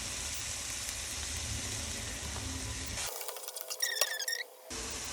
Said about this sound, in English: the onions are caramelizing